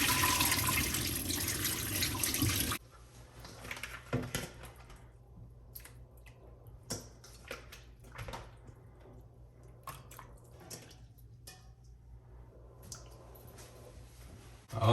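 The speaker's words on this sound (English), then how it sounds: "I'm just gonna go ahead and drain the water off and add it to my pot" Soaking water is poured off salted beef into a pot: a loud rushing splash for a few seconds, then sparse drips, trickles and wet squishes.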